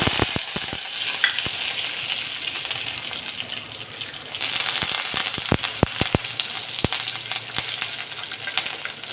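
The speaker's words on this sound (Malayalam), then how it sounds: "എണ്ണ ചൂടാകുമ്പോൾ കടുക് ഇട്ട് കൊടുക്കുക രണ്ട് വട്ടൽ മുളകും കറിവേപ്പിലയും ചേർക്കുക" Mustard seeds, dried red chillies and curry leaves crackle in hot oil for a dal sambar, with a steady close sizzle punctuated by sharp popping seeds that grow denser and louder midway.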